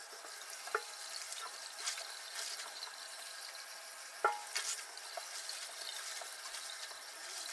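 Running tap water rinsing out ice-dyed fabric, a steady soft hiss of flowing water throughout with occasional faint splashes and knocks, no voices.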